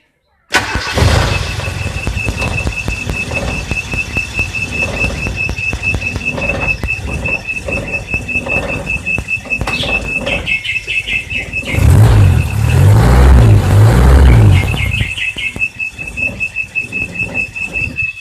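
A small engine with a custom coil wire on a bottle coil is cranked with the starter and catches, running with a steady loud rattle, then revving harder near the end, as someone talks.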